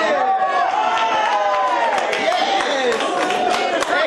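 Fans gathered for judoka Teddy Riner's arrival clap and cheer amid busy crowd chatter, with overlapping excited voices and scattered applause throughout.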